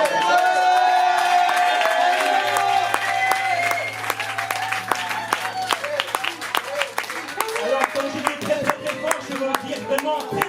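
A concert audience at La Zonmé applauds loudly and at length with dense clapping and some cheering, while voices and sustained musical tones carry on over the crowd.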